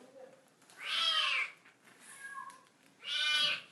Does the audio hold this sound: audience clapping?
no